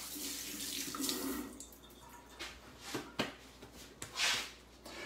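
Hands rinsed under a running kitchen tap after cracking eggs: a steady, close rush of water with splashes and changing flow, alone with no talking.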